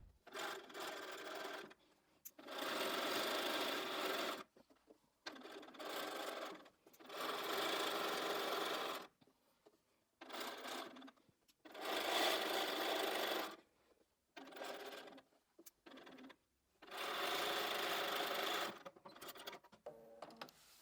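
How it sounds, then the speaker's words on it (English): A sewing machine stitches quilt rectangles together in repeated bursts of fast, steady whirring, each run a few seconds long and separated by short quiet pauses. "let's take all of those to the machine and sew these rectangles together to form our squares"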